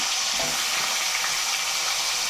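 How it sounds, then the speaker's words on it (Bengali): A hilsa fish head fries in oil with a loud, dense, unbroken sizzle heard up close for a couple of seconds. "মাথাটাও ভাজা করে নেব,"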